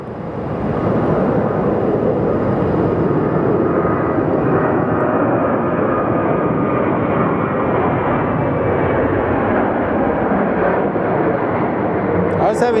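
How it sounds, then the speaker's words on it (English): An American Airlines Boeing 737 at Phoenix Sky Harbor Airport prepares for departure, giving off a loud, continuous engine roar that holds steady throughout. "We have our American Airlines 737 getting ready for departure."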